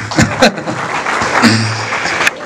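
An audience at a media cup opening ceremony in a hotel hall breaks into a loud burst of clapping with a few sharp peaks, while a voice carries faintly underneath.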